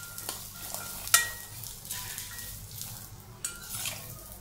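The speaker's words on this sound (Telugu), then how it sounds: "కొబ్బరి ముక్కలు, ఇవి కూడా వేసుకుని 1-2 నిమిషాలు వేగనిద్దాం" Coconut pieces and peanuts fry in oil in a pan, a steady close sizzle broken by a couple of sharp metallic clinks of a spoon stirring against the pan.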